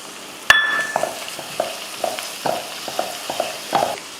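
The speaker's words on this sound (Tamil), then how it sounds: "மசாலா போட்டு நல்லா வதக்கி விட்ருவோம்" Crab masala fries in a pan with a steady soft sizzle, one sharp metallic clink at the start, then a run of rhythmic scraping stirs every half second or so, close and fairly quiet, with no talking.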